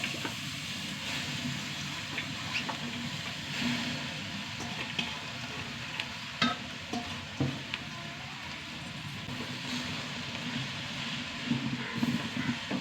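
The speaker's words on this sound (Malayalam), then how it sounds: "ചീര ഒന്ന് വഴറ്റിയെടുക്കാം." Spinach sautés in a pan with a moderate, continuous sizzle, broken by occasional clinks and scrapes of stirring, close by with no talking.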